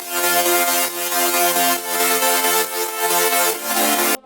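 Dry synth stack from a melodic dubstep drop, sounding without reverb: bright layered sustained chords pulsing rhythmically, loud and close, alone with no voices, cutting off abruptly at the end.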